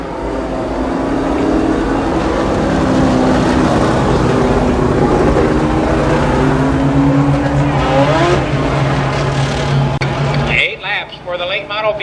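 Late model race cars at Columbus Motor Speedway in 1992 roar loudly and continuously around the track, engine drone rising and falling under steady announcer talk, then thinning out near the end.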